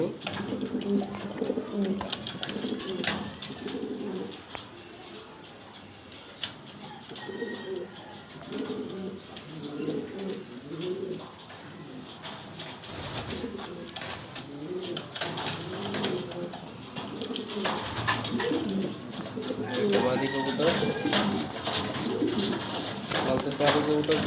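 Black pigeons coo steadily nearby in a crowded pigeon exhibition, a continuous layered rumble of coos, while someone talks over them much of the time.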